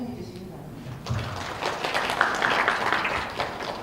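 An audience breaks into applause to welcome the judges at a software test design contest seminar, a steady wash of clapping that swells after about a second and continues to the end, mixed with voices.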